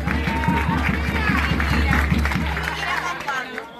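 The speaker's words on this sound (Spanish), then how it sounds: "Un fuerte aplauso." A crowd at a political swearing-in ceremony for women officials in Guaymate breaks into steady rhythmic clapping, close and lively, with voices and chatter mixed in beneath the applause as it fades toward the end.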